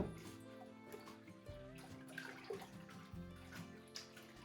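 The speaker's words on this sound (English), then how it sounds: "And now I'm going to stir in the soda ash solution with my hands" Hands stir soda ash solution into a bucket of two gallons of hot water, making continuous sloshing and splashing with irregular surges, close and fairly quiet with no talking.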